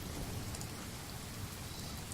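Steady rain falls in the video game Open Sorcery, a dense, even wash of patter with no breaks, moderately loud and heard alone.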